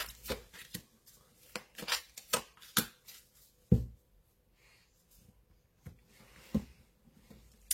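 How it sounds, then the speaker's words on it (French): Tarot cards shuffled by hand at a table, a series of soft riffling flicks and taps in irregular bursts, close and fairly quiet with pauses between them. "Alors, là, j'ai mélangé les cartes."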